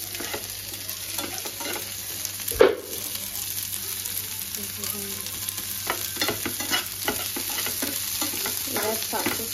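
Onion and bell pepper fry on high heat for chilli pasta, a steady sizzle broken by repeated spatula scrapes and one louder clank early on, with no voices.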